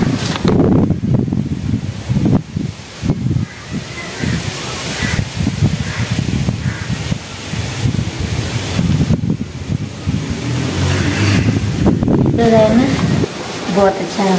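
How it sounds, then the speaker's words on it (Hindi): Strong wind blows outdoors in gusts, a steady roaring rush that buffets the microphone and continues throughout with no pause. "बहुत ज़्यादा हवा चल रही है"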